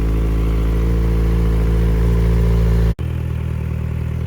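A 2019 Kawasaki Z900RS Cafe motorcycle engine idling up close, a loud, steady low rumble with a continuous mechanical hum and a brief dropout partway through, no voices.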